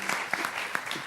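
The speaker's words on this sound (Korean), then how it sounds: "여러분 박수로 맞이해 주십시오." Brief burst of audience applause at a televised talk concert, welcoming a guest on stage; close, even clapping for about a second.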